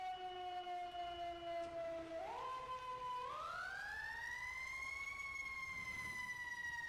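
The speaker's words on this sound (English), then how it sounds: "that's the Q siren right there" A loud Q siren on a rescue vehicle in the video game EmergeNYC holds a low steady tone, then sweeps upward in steps to a higher sustained wail, continuous throughout with no talking.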